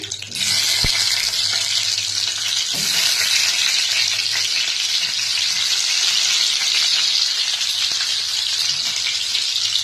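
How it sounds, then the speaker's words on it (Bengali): Eggs slid into hot oil set off a loud, hissing sizzle that holds steady and close for the whole stretch, with a couple of sharp clicks near the start and no voices. "তেল গরম হয়ে গেছে, এবার আমি আস্তে আস্তে করে ডিমগুলোকে ছেড়ে দিচ্ছি।"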